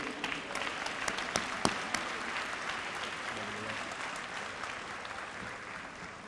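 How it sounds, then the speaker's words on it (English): Applause from the audience at a service awards ceremony honouring long-serving public works staff, a steady wash of many hands clapping, moderately distant, with a few sharper nearby claps early on. "Let's give a round of applause for these individuals"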